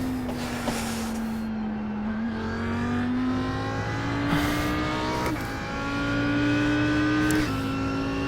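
Audi R8 GT3 race car lapping the Nürburgring in the iRacing simulator, its engine droning and rising steadily through gear changes with brief shift breaks, close and continuous with no talk.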